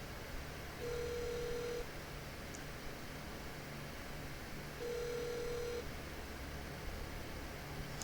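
A telephone ringback tone sounds while a call is placed to a county jail, two separate rings a few seconds apart over a steady hiss of line noise.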